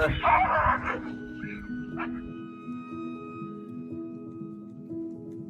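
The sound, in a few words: dog barking in a played video clip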